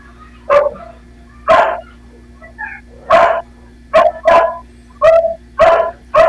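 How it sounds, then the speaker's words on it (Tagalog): A dog barks repeatedly in sharp bursts, about eight loud barks with short gaps, close by and uneven in rhythm. "Ang ingay kasi ng aso."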